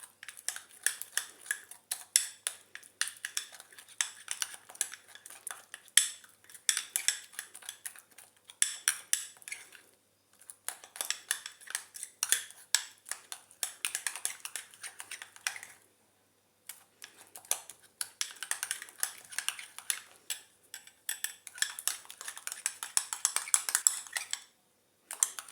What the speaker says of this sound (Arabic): خصنا نخلطوها مزيان البنات